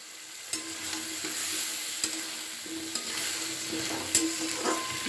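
Mixed vegetables going into hot spiced oil with ginger and green chilli in a pan, a moderate sizzle punctuated by a handful of sharp clinks and scrapes of stirring, no voices.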